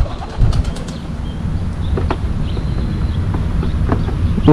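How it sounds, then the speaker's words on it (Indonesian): A homing pigeon, plump and slow to take off, is released near its loft and flaps away. A short burst of wingbeats comes close up at the start, then fainter bird sounds sit over a steady outdoor background. "Oh, kita terbangin lagi itu merpati yang tadi saya terbangin."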